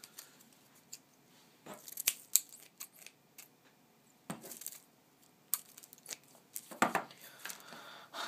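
Packaged trading card extras being opened, with bursts of plastic crinkling, tearing and sharp clicks coming in irregular clusters, close and fairly quiet, between short pauses.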